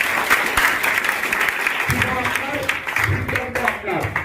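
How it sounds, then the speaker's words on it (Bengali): An audience gives loud applause to welcome new guests, steady close clapping that carries on while voices murmur underneath. "আমি প্রত্যেককে বলবো আমাদের নতুন মেহমানদের জন্য একটা জোরে করতালি দেওয়ার জন্য"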